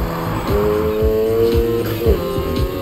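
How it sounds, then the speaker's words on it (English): Car drifting in the racing video game Need for Speed Heat, a sustained engine whine with shifting pitch and repeated tire-squeal bursts, loud and continuous throughout. "Use the gas. Keep that drift going."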